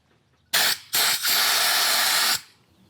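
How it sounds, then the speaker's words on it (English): Compressed air blasts in short bursts onto a classic Volkswagen Beetle part during an oil change, clearing tiny particles: a loud, close hiss that stutters twice at the start, then holds steady for over a second before cutting off. "I'm gonna go ahead and hit it with some compressed air"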